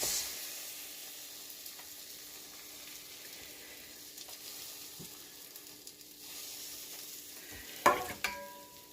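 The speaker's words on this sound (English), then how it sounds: "Plop it in the pan. We're just going to cook it well on both sides." Bread soaked in a dipping mixture fries in a hot pan, giving a steady close sizzle with light crackle and a few utensil clinks toward the end.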